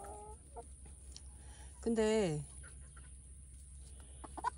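Silkie chickens in a separate garden pen give a short, rising clucking call mid-clip, with a few fainter bird sounds around it and a quiet voice near the end.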